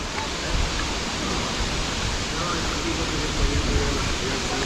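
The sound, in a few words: Inambakan waterfall, Ginatilan, Cebu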